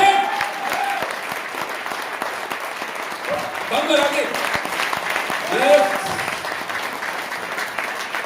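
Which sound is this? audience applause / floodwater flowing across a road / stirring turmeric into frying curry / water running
audience applause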